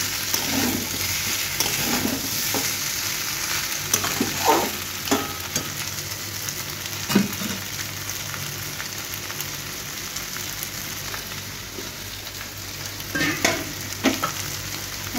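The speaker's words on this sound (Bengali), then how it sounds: "সব কিছু একসঙ্গে একটু কষিয়ে নেব।" Ingredients sizzle together while being sautéed in a pan, a steady frying hiss broken by occasional stirring scrapes and clatters, with no talking.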